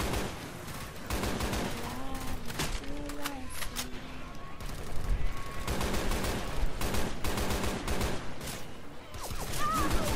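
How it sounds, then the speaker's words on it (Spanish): Rapid gunfire from the video game Left 4 Dead 2 rattles almost constantly, with dense bursts of shots stacking one after another. Game effects and player voices come through underneath the shooting. "Oh, ahí, se está disparando."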